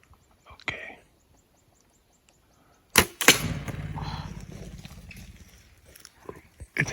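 A bow releases an arrow at a grouse during an elk bow hunt in the woods, giving a sharp, sudden snap and thwack right up close, followed by rustling movement and quiet talk.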